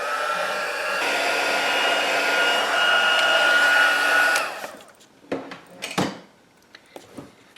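A handheld heat tool blows a steady, close whooshing hiss for about four seconds while melting embossing powder on a paper card, then cuts off, followed by a few light clicks and taps.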